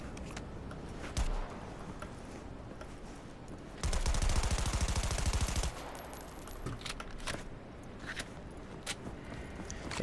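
Loud burst of automatic gunfire in the Cyberpunk 2077 video game, a rapid rattling volley lasting about two seconds in the middle, with sparse game noises around it and no talk.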